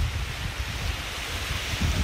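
Lake waves washing onto the beach at Cold Lake, Alberta, a steady rushing wash mixed with wind buffeting the microphone, constant and fairly loud throughout.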